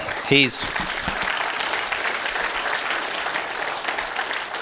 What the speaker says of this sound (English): Let's give Mark another big round of applause.